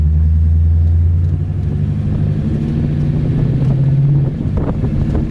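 Heavy wind roar buffets the microphone inside a body-swapped Dodge with a Hemi swap as it drives down the road, a loud steady rumble with engine drone underneath.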